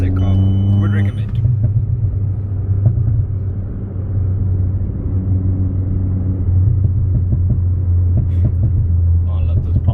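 A modified 2013 Mini Cooper S R56 tuned to 240 bhp, its engine droning loud and close in a steady low rumble, with a few sharp crackles near the end.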